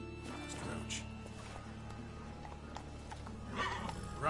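Roach, a horse in The Witcher 3, whinnies amid clip-clopping hooves and game ambience, with a brief louder neigh near the end and a voice speaking over the scene.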